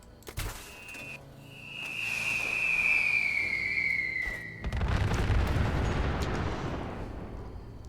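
In Fallout 76, an explosive mini-nuke weapon is fired straight up: a rising whistling whine as the shot climbs, then a deep rumbling blast that rolls on and slowly fades, with no talk.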